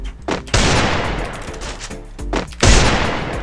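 Gunfire in the video game Free Fire, two loud bursts of rapid automatic shots separated by a short pause, close and booming.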